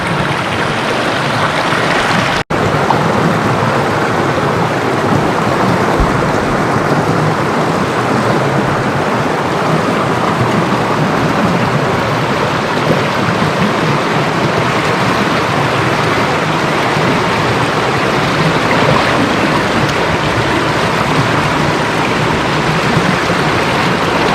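River stream current rushing around a kayak, a loud, continuous broadband wash of flowing water with one brief knock near the start and no voices.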